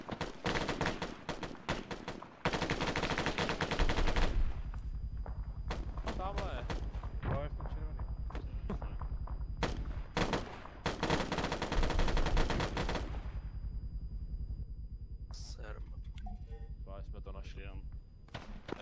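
Gunfire in the military shooter ArmA 3 arrives as rapid bursts of automatic shots and sharp single cracks, some close and loud, others fainter, broken by pauses, with people talking over parts of it.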